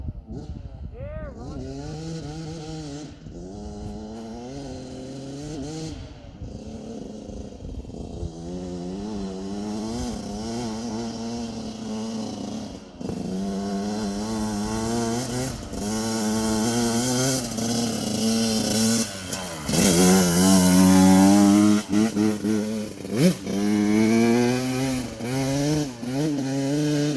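A dirt bike engine, two-stroke or KX450X four-stroke, revs hard with rising and falling pitch at full throttle on a trail at Tillamook, close and loud, with voices talking over it.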